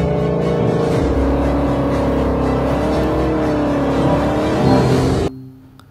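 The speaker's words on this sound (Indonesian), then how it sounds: "Wih, ada mobil Mustang juga" A Ford Mustang engine revs loudly and steadily up close, its humming note rising and wavering for about five seconds before cutting off abruptly into quiet.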